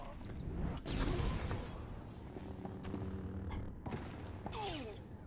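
Blaster gunfire from Star Wars: The Old Republic, a string of sharp zapping shots with a loud burst early on, layered over game music and ambience.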